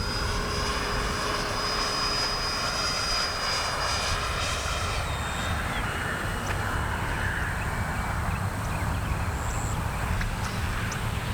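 A radio-controlled YAK-130 model jet in red and white makes a touch and go with flaps and gear down at dawn, a steady whooshing turbine whine with shifting pitch throughout, crows cawing faintly in the background.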